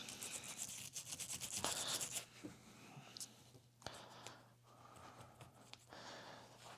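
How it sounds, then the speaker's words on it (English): A toothbrush scrubs a part of a Kirby Heritage II vacuum during restoration: close, rapid bristle scratching in bursts at first, then slower intermittent rubbing strokes. "if I can find my toothbrush and my Windex, this is a good time to clean"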